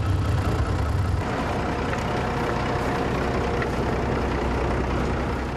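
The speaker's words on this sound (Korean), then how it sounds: "시동은 주인이 걸고 운전은 손님이 합니다." A modified Russian military tank on an off-road trip in remote Kamchatka roars as its engine fires up, a loud, heavy rumble that starts deep and settles into a steady, continuous growl close by.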